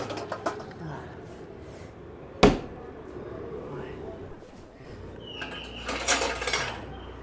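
Dishes and kitchen utensils handled in a home: one sharp clank near the middle, then a softer patch of clattering later, all over a low household background.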